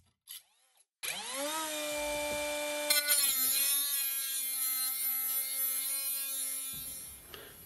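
A 12V brushless cordless angle grinder with a 76 mm disc whines up to speed and cuts steadily through metal, a loud, close, sustained high-pitched grind with a rough rasping edge that holds for several seconds before cutting off abruptly.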